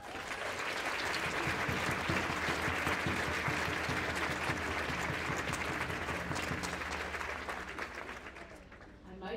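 Audience applause at a junior school closing ceremony, sustained clapping from a large crowd with some voices mixed in that slowly fades near the end.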